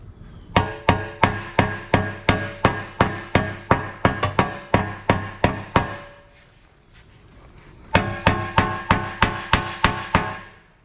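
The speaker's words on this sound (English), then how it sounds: "Now this area, I'll use the flat side of the hammer" A hammer strikes a creased, dented Harley motorcycle fender on a table during auto bodywork, a loud rapid series of sharp metallic blows in a steady rhythm, pausing for about two seconds before resuming.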